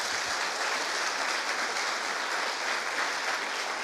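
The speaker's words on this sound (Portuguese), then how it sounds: "Vamos aplaudir Jesus bem forte." Congregation applauding during a Portuguese-language family worship service in church, a steady dense wash of clapping held at an even level throughout.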